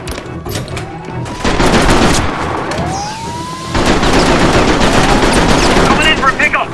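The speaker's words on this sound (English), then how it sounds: "Getting into a firefight around those bunker busters." Dense automatic gunfire and bursts rattle through a firefight in the Mercenaries 2 video game, loud and continuous with explosions mixed in and voices partly audible beneath the din.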